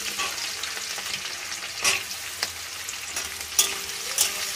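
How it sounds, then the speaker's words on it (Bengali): Chopped onion fries in a pan with cinnamon and cloves for Afghani chicken kosha, a dense continuous hiss of sizzling with a few sharp spatula scrapes and clinks, close and steady with no talk. "পেঁয়াজ কুচিটাকে ভালো করে লাল করে নেব।"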